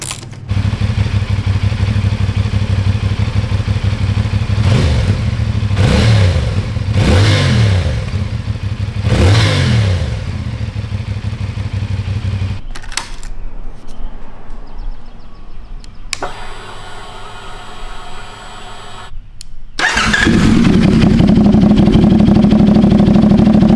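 A CFMOTO 450SS motorcycle with a slip-on exhaust idles loudly up close, blipped through several throttle revs, then settles into a deep rumbling idle with a raspy exhaust note.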